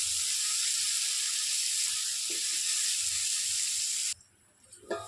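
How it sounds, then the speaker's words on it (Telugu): Green chillies and onions fry in a pan for a cucumber and dried fish curry, giving a loud, steady sizzling hiss for about four seconds before it suddenly drops away to quiet clatter. "చూడండి పచ్చిమిర్చి ఇంకా ఆనియన్స్ ఫ్రై అయ్యాయి కదా"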